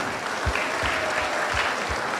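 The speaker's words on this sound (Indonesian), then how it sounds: "Tepuk tangan." An audience at a church talk show claps steadily at moderate volume, a dense patter of hands with a few heavier thumps standing out, with no talk over it.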